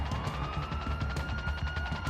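Rapid bursts of automatic gunfire from a video game repeat in a fast rhythm under a steady vehicle engine drone, moderately loud throughout.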